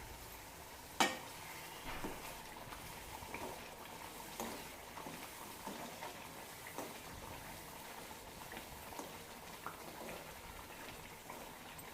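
Jaggery being stirred into a pot of bitter gourd pulusu, a quiet stew of soft scraping and faint spoon taps against the pot, with one sharper knock near the start and low bubbling underneath, no talking.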